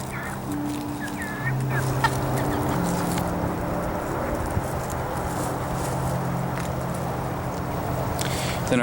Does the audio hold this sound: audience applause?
no